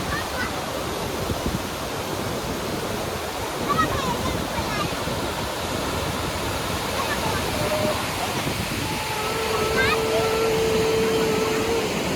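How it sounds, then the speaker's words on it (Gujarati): Large volume of water rushing steadily, a broad continuous roar like a flowing stream or spillway, heard close, with faint voices and a brief whistle-like tone partway through. "આયુષભાઈ જોવા કેટલું બધું પાણી જાય"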